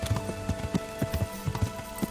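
Horse hooves in the video game Kingdom Come: Deliverance clop in a quick, regular rhythm of hard close hits, as a steady run with no talking.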